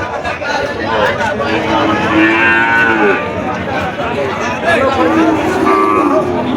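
Cattle lowing at the traditional Bhangura cow and goat market in Jessore, Bangladesh, with several loud, drawn-out moos rising over a steady background of crowd chatter and people talking nearby.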